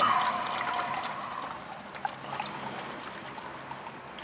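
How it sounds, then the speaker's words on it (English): Engine oil from a 2014 Toyota Corolla S trickles steadily into a drain pan, a faint thin pouring sound with a few small drips and clinks scattered through it. "there we got oil into our pan. Let it flow, let it flow"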